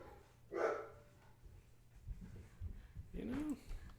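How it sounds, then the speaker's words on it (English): Dogs barking indoors in a couple of loud bursts, one early and one near the end, with quieter low rumbling and scuffling between them. "Sorry, technical difficulties while the dogs lose their damn minds."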